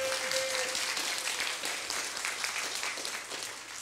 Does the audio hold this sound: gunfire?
no